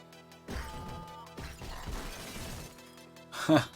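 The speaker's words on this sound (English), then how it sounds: "I threw the telephone booth at her." A heavy crash and shattering smash as a telephone booth is thrown at an enemy in the retro video game 198X, with clattering impacts and a bright breaking burst at the end.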